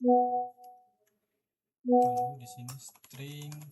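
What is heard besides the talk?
mobile phone sound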